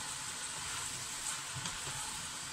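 Vegetables for pisto sizzling and frying in a pan over medium heat, a steady, fairly quiet crackle with soft scraping from stirring.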